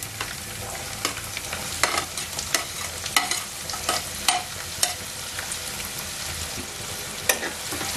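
Chopped onions hit hot ghee with curry leaves for a mutton ghee roast and crackle loudly and close. Frequent scraping strokes of a stirring spoon sound against the pan throughout, with no talking.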